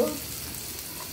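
Chopped onion and garlic fry in oil in a pan for a hilsa-head kochu shaak dish, giving a brief, even hiss of sizzling with a faint clink at the start.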